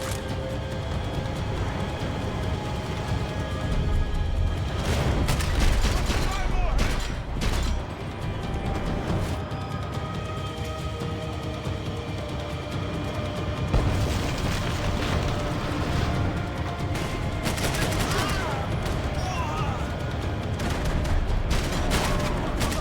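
Sustained gunfire from the Max Payne 3 video game, dense bursts and shots running throughout with booming impacts layered over a game soundtrack, loud and continuous.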